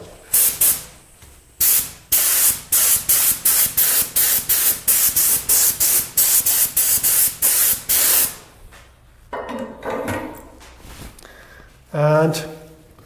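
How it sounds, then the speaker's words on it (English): A spray gun sprays paint color for a crystal-effect painting in a rapid series of loud, short hissing bursts with brief gaps between them. After the spraying stops, a person speaks. "And apply the color with the spray gun."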